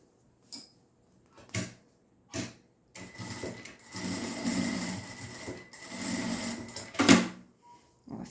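Sewing machine stitching together the aligned fabric edges of a clutch bag: a few short bursts first, then a steady close whirring run of several seconds with brief pauses.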